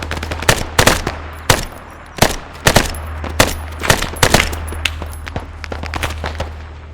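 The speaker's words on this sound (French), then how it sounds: "attention, je tire." Gunfire in the ArmA 3 video game near Vietnamese rice paddies: sharp, loud shots fired in single bursts and quick clusters, separated by short gaps with a faint background hum.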